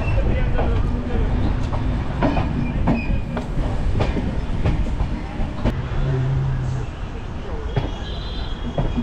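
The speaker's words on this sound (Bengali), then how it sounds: "আমাদের ট্রেন আস্তে আস্তে দমদমের দিকে এগোচ্ছে।" Kolkata Jogbani Express passenger train running out of Kolkata toward Dum Dum, with a steady rumble and rattle of the carriages heard from on board, occasional clicks and brief squeals over the rails, and faint voices underneath.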